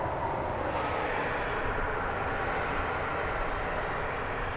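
An American Airlines plane takes off at DFW Airport at night, a steady, moderately loud engine roar with a broad low rumble sustained throughout, no speech.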